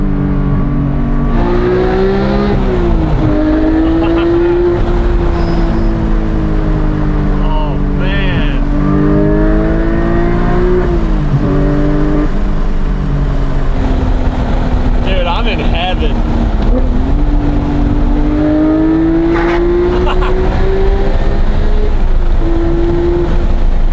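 A Porsche sports car engine accelerating under full throttle, heard as a loud, continuous droning engine note that swells and dips in pitch through the run, steady and close throughout.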